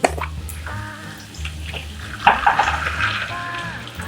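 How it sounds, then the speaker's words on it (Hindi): Water poured into a pan of sizzling spiced potato curry, a brief splash and hiss rising over steady frying sizzle, with soft stirring and clinks before and after. "अब हम यहाँ पानी डालेंगे।"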